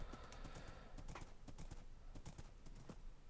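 Horse hooves clip-clop in a steady trotting rhythm in the Minecraft-style Mumbocraft game, sharp repeated clops over a soft background hiss, fairly quiet and with no voices.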